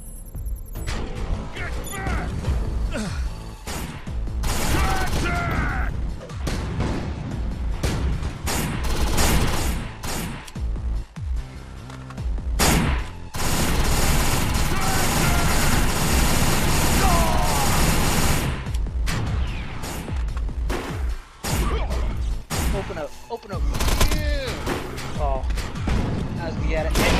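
Dense gunfire in the video game Defiance: rapid bursts and booming shots crowd a long, loud stretch of combat, with people talking over the shooting.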